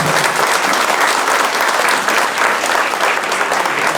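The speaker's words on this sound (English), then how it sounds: "Big round of applause, boys, for the parents as well." Loud, sustained applause from a large audience at an Independence Day school celebration, honouring the parents; dense steady clapping fills the whole stretch without pause.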